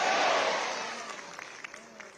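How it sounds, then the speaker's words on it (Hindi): An audience at an Arya Samaj gathering applauds the Defence Minister, with a dense burst of crowd clapping that fades out over about two seconds. "माननीय रक्षा मंत्री महोदय जी का, जोरदार तालियों द्वारा अभिनंदन"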